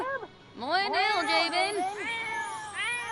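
A cat in The Sims 4 meows repeatedly in long, drawn-out, whiny calls, loud and close, with a short chirp at the very start.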